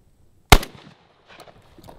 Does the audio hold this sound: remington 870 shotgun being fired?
yes